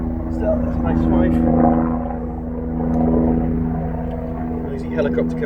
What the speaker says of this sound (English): Noisy helicopter coming over.